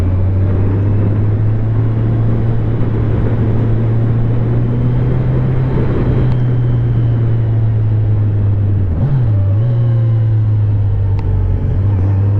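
A Kawasaki Ninja 1000 SX motorcycle engine hums loud and steady while riding, its low drone holding pitch under wind rush, with a brief dip and rise near the end.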